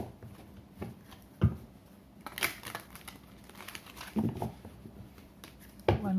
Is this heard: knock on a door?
no